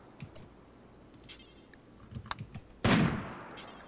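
Gunfire during a RimWorld video game battle: a few faint scattered shot pops, then one louder burst near the end, over a quiet background.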